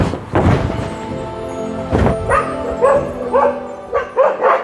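Four dogs bark sharply at a lone monkey in a hill village, a series of loud, close, irregular barks and yips in quick bursts with short gaps.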